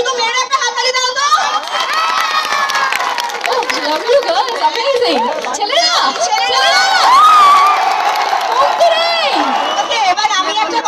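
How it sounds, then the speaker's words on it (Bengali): Female college students in an audience clap and cheer loudly, a dense burst of shrieks, whoops and applause filling the whole stretch, with excited voices rising over the clapping. "শুধু মেয়েরা একটা হাততালি দাও তো"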